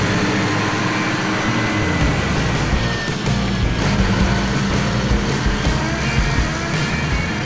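A cartoon timber truck hauling long heavy logs rumbles by with a loud, continuous engine roar and road noise, steady throughout and with no voices over it.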